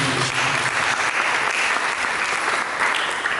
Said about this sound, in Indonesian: Mari kita berikan tepuk tangan